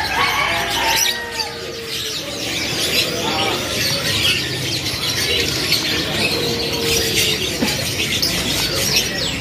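Canaries in a bird shop squawk and chirp continuously, with some busy overlapping calls and occasional wing flutters close by, plus faint background voices.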